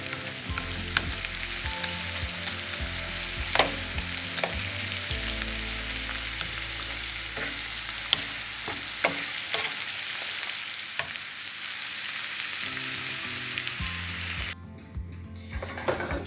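Chopped onions sizzle and fry in a pan while a utensil stirs them, giving a steady crackle with scraping strokes throughout before the sizzle quietens at the end.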